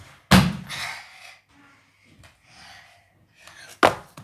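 Two heavy thuds of a gymnast landing a round-off on a floor, one near the start and one near the end, separated by soft rustling, footsteps and breathing.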